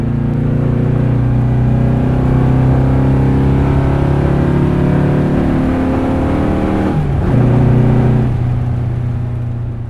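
The air-cooled engine of a modified 1954 Volkswagen Split Screen Samba bus drones steadily from inside while driving, loud and close, with a brief dip in pitch like a gear change.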